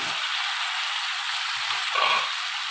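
Boiled dal and cabbage hit hot oil in a wok with a steady, close sizzle that swells briefly near the end before cutting off abruptly.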